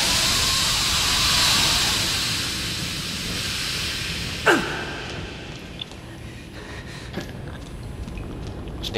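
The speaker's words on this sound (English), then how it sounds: "Steam kind of sounded like him" Steam hisses loudly and steadily in the horror video game Outlast, then fades after a sharp metallic clank, leaving quieter ambience with faint scattered knocks.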